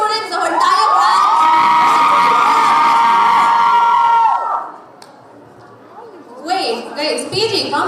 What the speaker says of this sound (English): Guys, you have to cheer too.